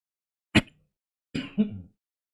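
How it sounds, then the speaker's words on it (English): A brief sharp cough-like burst, then a short pause and a rougher two-part throat clearing, close and loud in otherwise quiet surroundings. "I'm trying to clear my throat."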